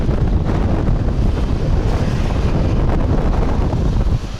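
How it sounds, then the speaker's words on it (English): Loud, continuous wind buffets the microphone while riding on the streets of Da Nang, Vietnam, producing a heavy rumbling roar throughout with no voices. "it's a little bit windy, I hope you hear me"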